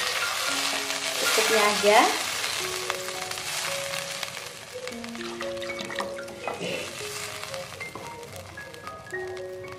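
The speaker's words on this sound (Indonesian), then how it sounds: "Sudah wangi, sudah harum, masukin air." Water hits a hot pan of fried spice paste for a chayote dish, setting off a loud burst of sizzling and bubbling that settles into steady frying and simmering, with a brief spoken remark.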